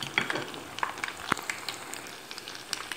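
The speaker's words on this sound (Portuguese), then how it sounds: "Vamos deixar fritar esses três." Kibbeh deep-frying in oil, three pieces at a time, giving a soft, steady sizzle with scattered small pops and crackles throughout, fairly quiet and without talk.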